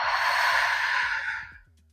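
A long, heavy exhale during a yoga stretch, one breathy rush that holds steady and then fades out over about two seconds, close and alone, with faint low hum beneath it.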